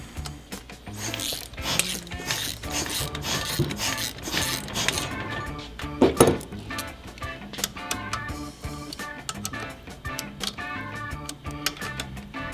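Torque wrench ratcheting as it tightens cam plate bolts on a Harley-Davidson Twin Cam engine cam chest, a quick run of close, rhythmic metallic clicks with pauses and one sharper snap midway.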